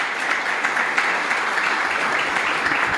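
Seminar audience applauding after a sports research presentation, a steady, moderately loud patter of many hands clapping for the full few seconds without speech.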